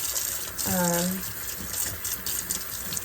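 A kitchen tap runs steadily into a sink as dishes are rinsed, a constant close wash of water with a brief tonal whine partway through.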